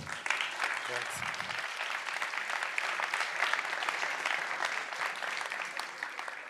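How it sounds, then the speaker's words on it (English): Audience applause at the DL Summit 2022 product-management conference, welcoming a speaker to the stage: dense, steady clapping that sustains evenly for several seconds with a brief voice at the start. "Please welcome, with a round of applause,"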